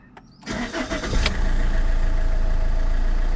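An Alfa Romeo 159 1.9 JTDM diesel, fitted with a new turbo, cranks briefly, catches and settles into a loud, steady idle close by.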